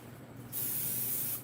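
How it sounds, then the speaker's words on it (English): Pam cooking spray hisses onto a pan held over a kitchen sink, a single steady spray lasting about a second, close and fairly loud over quiet room tone. "So I'm going to spray it with some Pam."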